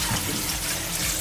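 Cold tap water runs steadily into a kitchen sink while quinoa is rinsed, a close, even splashing rush with no talk.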